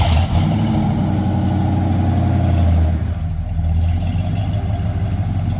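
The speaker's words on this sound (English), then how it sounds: "Crank her up, Logan." A hot rod's engine runs loud and close with a deep, throbbing rumble, then surges and eases as it's revved, settling back to a steady idle partway through.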